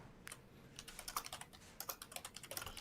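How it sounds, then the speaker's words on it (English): Rapid, uneven clacking of keys on a computer keyboard, picked up faintly in the background during an online developer Q&A call for the Portal 2: Community Edition mod, with bursts of strokes and no talk over them. "Luke, we can hear your keyboard"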